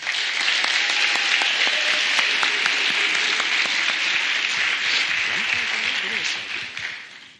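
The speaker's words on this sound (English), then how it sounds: "Please give all of our judges a big round of applause." Sustained applause from a talent show audience honoring the judges, dense steady clapping filling the room for about seven seconds before tapering off at the end, with faint voices mixed in.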